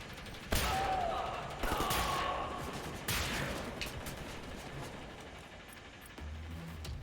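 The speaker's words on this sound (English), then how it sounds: "Alright, double shotguns." Double shotguns fire in the shooter game Wolfenstein: The New Order, with three or four loud blasts spaced about a second apart. Each shot rings out with a ringing tail over the game's ambient rumble.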